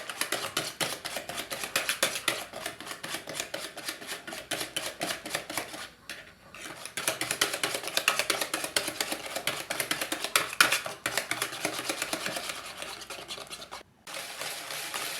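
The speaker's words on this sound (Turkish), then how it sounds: "şimdi tel çırpacağımla köpürene kadar çırpacağım" Eggs whipped by hand with a wire whisk until frothy, a fast continuous scratchy clatter of metal against the bowl, steady and close, with a brief pause midway and another near the end.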